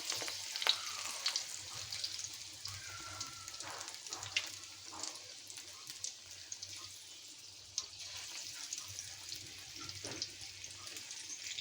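Onion fritters (peyaju) frying in hot oil, a soft continuous sizzle and crackle with occasional faint stirring and clinks, quiet and steady for the whole stretch, no voices.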